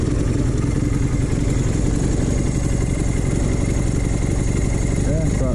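A steady engine idling at about 1200 RPM, with a continuous low rumble and light mechanical clatter holding constant throughout at close range, with no talk over it.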